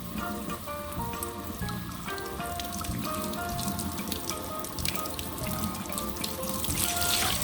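Water runs steadily from a tap into a sink as wool is rinsed, a continuous splashing rush with scattered drips, close and fairly loud throughout.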